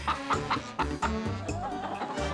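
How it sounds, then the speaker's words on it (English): Hens cluck and squawk loudly together in a busy, overlapping chorus, with bursts repeating every fraction of a second. "all the hens begin to scream loudly in chorus"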